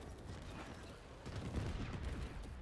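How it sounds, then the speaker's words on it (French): Rapid burst of distant cannon fire from a crew ship gun in Warframe, a quiet rattling volley that swells slightly louder midway. "ça j'ai un canon en fait que je peux tirer"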